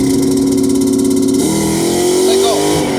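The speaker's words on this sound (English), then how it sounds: "One more time, 4 grand. Turn on the brake lights, full throttle, then let go of the brake." A 2003 Ford Mustang GT with automatic transmission held on a 2-step rev limiter at full throttle. Its loud, steady engine drone cuts partway through and shifts into a rising, rougher roar.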